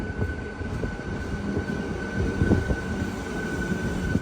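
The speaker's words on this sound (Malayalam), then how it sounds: "ട്രെയിൻ ഇതാ ബയ്യപ്പനഹള്ളി റെയിൽവേ സ്റ്റേഷനിൽ നിർത്തി" A train pulls into Baiyappanahalli railway station in Bengaluru, its wheels rumbling and clicking close by over a steady high whine, with a few squeals and knocks as it slows to a stop.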